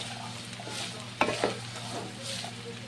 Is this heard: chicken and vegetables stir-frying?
yes